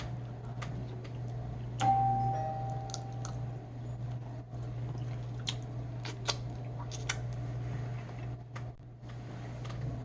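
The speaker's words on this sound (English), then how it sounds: "And now they done came and rung the doorbell." A doorbell rung by children playing outside a home sounds once with a clear tone, followed by scattered clicks and taps over a steady low hum.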